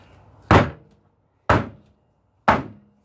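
Three heavy thuds spaced about a second apart as a shampoo-bar soap mold is banged down hard on a tabletop, close and loud with quiet between.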